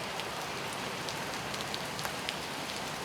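Heavy rain falling outdoors, a dense, continuous patter of drops on surfaces with scattered sharper drips, steady and close with no voices.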